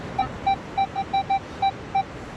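A metal detector sweeping over a coin on a beach gives eight short, evenly spaced electronic beeps at a steady pitch, clear and close over faint background hiss.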